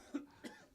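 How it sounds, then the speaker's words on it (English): Two short coughs from a man during a cricket broadcast, near and moderately loud, a quarter-second apart with quiet between. "I've had this appalling cough all week"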